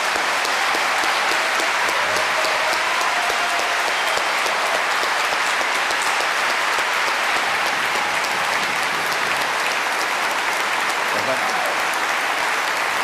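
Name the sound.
audience applause after a debate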